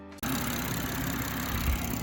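A BMW M240i's engine, six-speed manual with a freshly flashed ECU, starts and settles into a steady, close idle with a low, continuous rumble.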